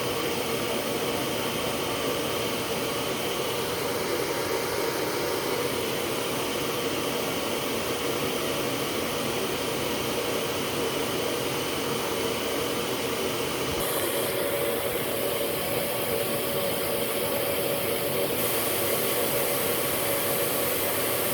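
A Metropolitan vacuum cleaner runs on its low setting with the wand attached, a steady close whine and motor rumble that holds unchanged throughout, with a slight shift in hiss midway.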